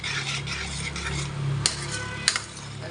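A spoon stirs wheat payasam in a pot after the sugar syrup goes in, giving soft scraping swirls with two sharp clinks of metal against the pan.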